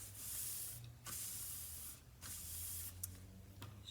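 Gold spray paint hisses from an aerosol can onto a homemade treasure prop in three close, steady bursts separated by short pauses.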